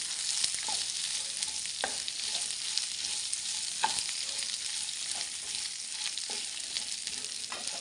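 Crab sukka masala roasts in a pan over a low gas flame, a soft, constant sizzle broken by occasional scraping stirs of a spoon.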